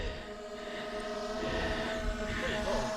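A Skydio 2 drone hovers near trees, its steady propeller whine running continuously and fairly close with faint background sound.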